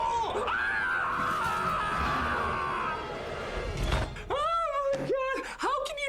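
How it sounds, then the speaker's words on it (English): A woman screams in a film scene, with high sustained shrieks at the start and several shorter cries near the end, mixed with other voices and background noise. "Why are you just screaming?"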